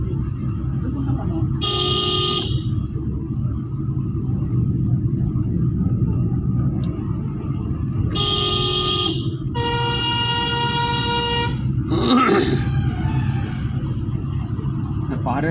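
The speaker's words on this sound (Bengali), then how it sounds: "পাহাড়ের মধ্যে এরকম সারেগামা হর্ন বাজাতে হেভি লাগে" A musical sa-re-ga-ma vehicle horn plays a stepped run of tones out in hilly country, in two short bursts and then a longer ascending sequence, loud over a steady engine rumble and road noise, with voices in the background.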